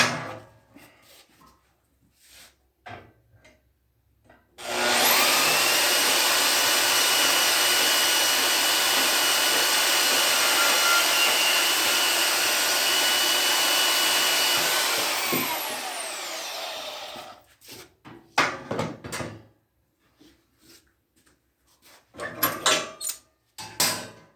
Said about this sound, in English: We'll cut this to length with the portaband.